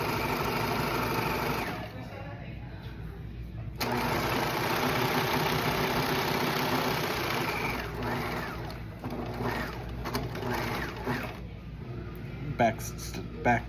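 A sewing machine stitches a seam with the presser foot run along a serged edge, a steady mechanical whir that briefly pauses and restarts, with a person talking over it.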